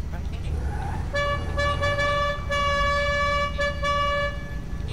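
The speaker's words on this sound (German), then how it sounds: "jetzt dieses andere Hupen" A single sustained car horn from GTA 5 Online blares loudly, broken by a couple of brief gaps and resuming, over a continuous low engine rumble, with faint talk in the background.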